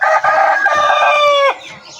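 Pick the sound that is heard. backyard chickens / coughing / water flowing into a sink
backyard chickens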